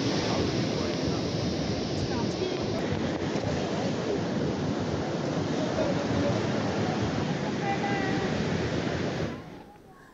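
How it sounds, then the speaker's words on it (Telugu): Rough sea churned up by Cyclone Fengal roars as a dense, steady wash of surf and wind noise, loud and unbroken before fading out at the end. "మరోవైపు ఫెంగల్ ఎఫెక్ట్తో సముద్రం అల్లకల్లోలంగా మారింది"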